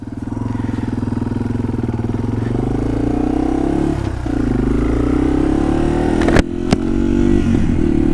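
A 2021 Yamaha TW200 motorcycle's single-cylinder engine runs steadily close by, then revs and pulls away, with a couple of sharp clicks or clunks near the end. No one speaks.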